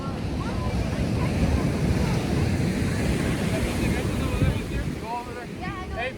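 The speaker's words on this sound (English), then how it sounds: "I am actually at the beach in Santa Monica" Ocean surf and gusty wind at Santa Monica beach, a steady loud wash of breaking waves with wind buffeting the microphone throughout, and faint high bird-like calls near the end.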